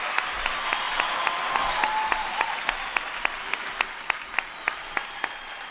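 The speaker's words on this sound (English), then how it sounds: "Can we give him more round of applause?" Sustained crowd applause at a peace education event, steady at first, then thinning into sharper, separate claps toward the end.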